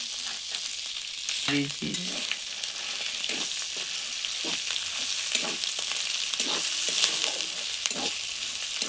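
Ginger, green chili and green pea paste fry in a pan, a steady close sizzle running throughout with occasional stirring scrapes and a brief spoken word.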